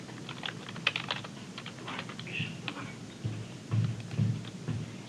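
Soft clicking keystrokes on a computer keyboard come in short irregular bursts with brief pauses, close but quiet, with no talking.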